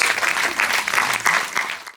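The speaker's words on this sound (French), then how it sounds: "Sous vos applaudissements" Audience applause at the closing ceremony of the FEMI film festival in Guadeloupe, a dense sustained clapping that fills the whole clip at steady volume before tapering off at the end.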